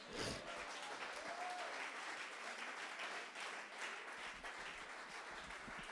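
A church congregation bursts into sustained applause, many hands clapping together in a dense, steady roar that holds for several seconds without pause.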